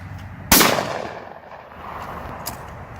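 A single sharp blast from a Stoeger Coach Gun, a 12 gauge side-by-side double barrel, cracks loud and close, then trails off into a faint fading rumble, with a second lighter bang near the end.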